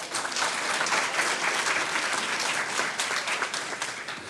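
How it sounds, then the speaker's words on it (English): A board meeting audience applauds an award for a high school teacher, a steady, moderately distant wash of clapping that fills the whole few seconds with no talk. "A round of applause for Miss Morales."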